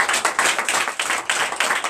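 A church congregation at a Sunday service claps rhythmically together in acclamation of Jesus, a loud, close, steady burst of hand claps with no voices over it.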